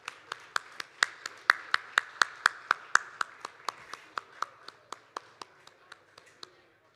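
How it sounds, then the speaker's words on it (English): A single person clapping at a conference gathering, about twenty sharp, evenly spaced claps that grow fainter toward the end, close and clear with no other sounds. "Can we have a big round of applause for her,"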